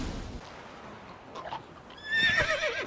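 Horse neighing in the video game The Witcher: Wild Hunt, a loud, shrill whinny rising near the end of a short stretch after some quieter shuffling and low hoof sounds.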